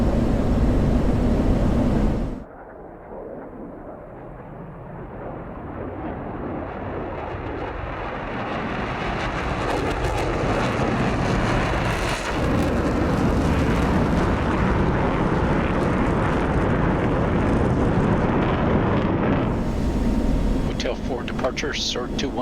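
An F-16 jet taking off in DCS World: the engine roar drops briefly, then builds into a loud, sustained rising rumble that carries on steadily as the aircraft climbs away, with radio talk over it.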